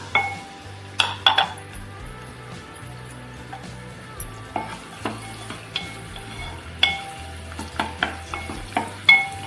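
Garlic sautéing in hot oil for a Maharashtrian pomfret curry, a steady low sizzle broken by repeated sharp clinks and scrapes of a spoon against the pan, close and fairly loud throughout.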